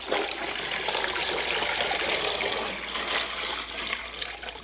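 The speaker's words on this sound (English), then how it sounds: "then just going to put the water in." Water pouring steadily from a tap into canning jars packed with deer meat, a continuous close rushing splash that dips slightly near the end.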